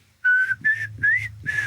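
A person whistles a short tune, four clear held notes rising and sliding slightly, close and fairly loud, with a low murmur of room noise underneath.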